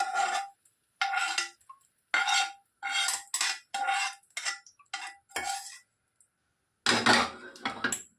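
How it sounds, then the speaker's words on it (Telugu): Fried ingredients being scraped out of a pan into a mixer jar: a series of sharp metallic scrapes and clinks in irregular bursts separated by silences, close and clear with no talking. "ఇప్పుడు స్టవ్ ఆఫ్ చేసేసి వీటన్నిటిని ఒక మిక్సింగ్ జార్లోకి వేసేసుకుంటున్నాను."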